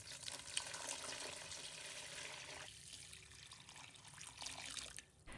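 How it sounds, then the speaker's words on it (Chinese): Warm water is poured into a bowl holding three sheets of rice noodles, a soft, steady trickling stream that runs for a few seconds, quiet and close, with no speech. "往碗里倒入温水"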